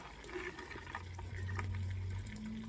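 Water running over freshly picked wild blueberries in a colander, a steady soft trickle and splash heard fairly quietly and close, with no talk.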